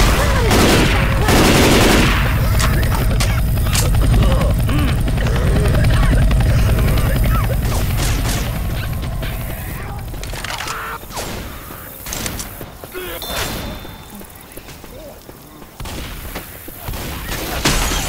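Rapid bursts of video game gunfire crackle over a loud, steady helicopter-like whir, thinning out later amid scattered shots while a player talks.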